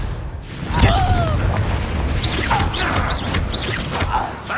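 A Confringo blasting spell in the Hogwarts Legacy video game bursts with a loud boom, then sustained roaring blast noise with whooshing sweeps and bright crackling flourishes continuing throughout.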